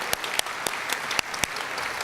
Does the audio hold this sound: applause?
yes